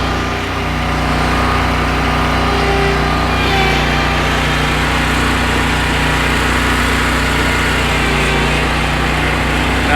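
A lawn mower engine runs steadily and loudly throughout while mowing a yard, its constant droning hum unbroken and close by.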